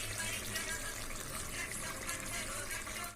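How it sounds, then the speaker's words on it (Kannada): Boiled potatoes and peas tipped with their cooking water into a pan for a potato curry make a steady, faint pouring and splashing wash that lasts about three seconds. "ಆಲೂಗಡ್ಡೆ ಮತ್ತು ಬಟಾಣಿ ನೀರು ಸಮೇತ ಹಾಕೊಳಕತ್ತೀನಿ ನಾನು"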